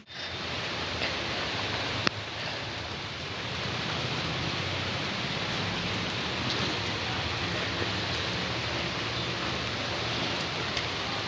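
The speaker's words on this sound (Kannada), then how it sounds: "ಮಳೆ, ಸಿಕ್ಕಾಪಟ್ಟೆ ಮಳೆ." Heavy rain pours steadily near a forest temple, a dense, even hiss that holds throughout with one brief sharp tap early on and no voices.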